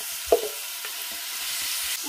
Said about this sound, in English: while the shrimp is cooking